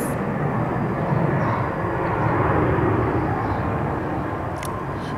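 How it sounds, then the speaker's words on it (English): A fixed-wing airplane passing overhead outdoors, a broad continuous roar that holds steady through the whole stretch with no talking over it. "That was an airplane"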